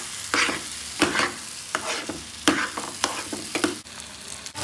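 Turmeric halwa sizzles in ghee in a pan while being stirred, with rhythmic scraping strokes about every half second over a soft, continuous frying hiss, close and alone.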